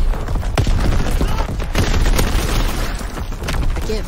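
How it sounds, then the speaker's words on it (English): Artillery explosions in the Call of Duty video game, a dense barrage of booming blasts and rattling gunfire with sharp transient hits around the middle, loud and continuous throughout. "Incoming enemy artillery, get to cover!"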